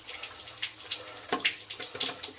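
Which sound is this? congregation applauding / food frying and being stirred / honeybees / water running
water running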